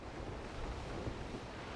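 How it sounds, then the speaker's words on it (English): Broad rushing surf and open-water noise from the PS2 role-playing game Suikoden IV, a brief steady wash of waves with no voices. "And for a game that takes place on water, I'm sure they're gonna have like decent water effects."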